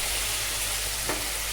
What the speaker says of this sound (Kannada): ಒಂದು ಸ್ವಲ್ಪ 1 ನಿಮಿಷ ಫ್ರೈ ಆಗಬೇಕು.